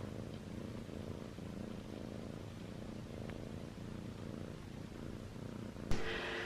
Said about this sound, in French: Oh ça ronronne.